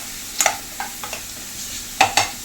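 Salted onions for a Kerala horse gram (muthira) curry are stirred in a pan, with clusters of close spoon scrapes and knocks over a soft, steady sizzle and no voices.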